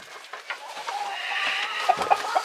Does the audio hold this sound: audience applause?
no